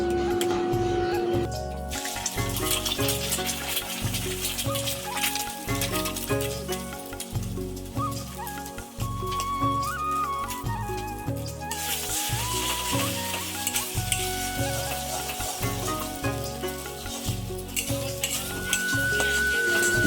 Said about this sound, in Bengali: সবার ফার্স্টে আমি ডিমটা ভেজে নেব তো চলো দিয়ে দেওয়া যাক ডিমটা